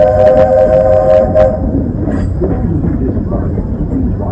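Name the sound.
Walt Disney World Railroad train pulling into station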